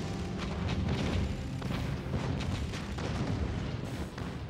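Turrets in the Spore video game fire a dense barrage of booming blasts and rumbling explosions, continuous and loud with repeated thuds throughout.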